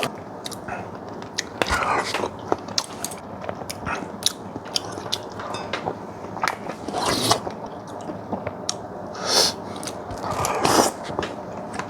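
Close-up eating of rosé gambas tteokbokki with charcoal-grilled chicken and cheese: repeated crunchy bites, wet chewing and rustling utensil or packaging noises, irregular and near, with no talking.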